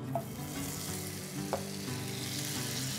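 Butter melting in a pan before oil and onions are added, giving a steady, close hiss and sizzle with a couple of light clicks from stirring and no talking.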